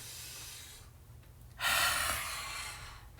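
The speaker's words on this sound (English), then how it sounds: "Enjoy some nice exhales." Deliberate exhaled breaths while stretching during a quick full-body routine, one quieter breath followed by a stronger, louder breathy exhale that rises suddenly, then fades, close to the microphone.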